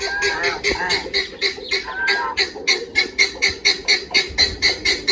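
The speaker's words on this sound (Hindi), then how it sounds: "चकोरें देखें कितनी प्यारी आवाज़ें दे रही हैं।" Chukar partridges call in a rapid, rhythmic series of raspy chuckling notes, close and steady, repeating several times a second.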